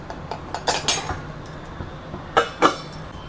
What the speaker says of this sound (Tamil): மூடி போட்டு மூடி வச்சுருவோம்